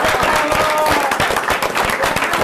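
Stadium crowd of Padova fans applauding from the stands, a dense, steady wash of many hands clapping at close range with crowd noise mixed in, continuous and loud throughout.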